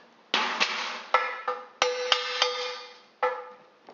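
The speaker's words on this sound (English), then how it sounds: "Hammering that glass was fun though." A hammer strikes the glass of a television being taken apart, producing about seven sharp, loud, ringing blows at an uneven pace. Each blow decays briefly and no one speaks.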